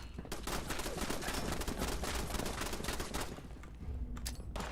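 Sustained rapid-fire turret shooting in Fallout 76 hammers for several seconds as a close, loud, continuous rattle, then thins out near the end, with no one speaking.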